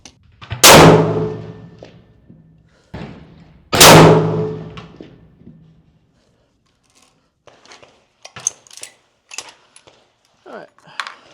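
Two loud, sharp .338 Lapua Magnum rifle shots ring out about three seconds apart on an outdoor range, each followed by a fading echo, and brief talk comes after them.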